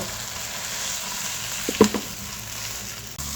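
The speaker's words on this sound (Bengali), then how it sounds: "এটাকে বেশ কিছুক্ষণ নেড়ে চেড়ে ভেজে নেব" Mashed potato and tomato fry in mustard oil while being stirred, a steady close sizzle with a short cluster of spatula scrapes and knocks near the middle.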